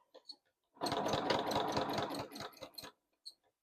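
A sewing machine stitches in free motion quilting, a fast, buzzing run of about two seconds at close range with short quiet pauses before and after.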